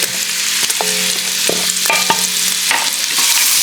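About one and a half cups of chopped onion sautéing with sausage in olive oil, a loud, close, dense sizzle with a few ringing scrapes and knocks of a spoon in the pot.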